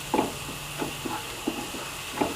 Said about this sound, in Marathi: हे सगळं मी आता व्यवस्थित असं हलवून घेत आहे